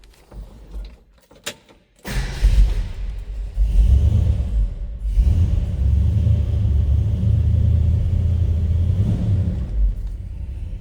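A 1968 Ford F100 pickup engine cranks briefly and catches, then settles into a steady, deep idle rumble with a faint clatter, close by and with no talking.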